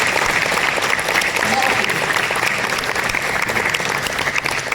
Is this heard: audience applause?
yes